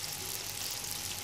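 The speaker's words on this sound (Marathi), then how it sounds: "तेल आता आपलं चांगलं तापलेलं आहे, आता यामध्ये आपण कांदा घालूया" Onion frying in hot oil while making oyster masala (kalve masala), a steady broadband sizzle holding at an even level throughout, close and alone.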